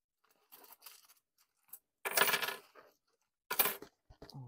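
Coins jingle and clink as loose change is handled and counted, in several short bursts of metallic rattling separated by quiet gaps, close and fairly soft.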